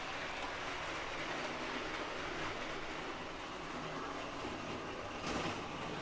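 A 1963 Lionel 634 switcher toy train runs on its track with a steady close whirring rumble and clicking wheel noise, a brief louder burst near the end, no voices.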